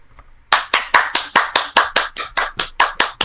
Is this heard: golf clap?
yes